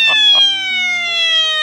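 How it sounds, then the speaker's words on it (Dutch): An alarm on a geocache puzzle box sounds close by as a loud, steady electronic tone with slowly falling pitch, preceded by two brief clicks. "Ik weet hoe ik het alarm moet laten afgaan."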